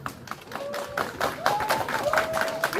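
Concert audience breaking into applause, a scattered burst of clapping from a crowd close by, with a voice speaking briefly over it.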